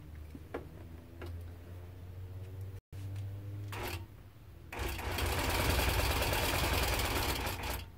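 A Nolting Pro-Series longarm quilting machine stitching binding onto a quilt, a steady fast mechanical ticking hum that pauses briefly, then returns louder and denser for the last few seconds, close and without talk.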